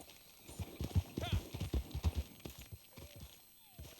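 Horse hooves clip-clop in a video game, a quick run of close, sharp knocks with people talking over them.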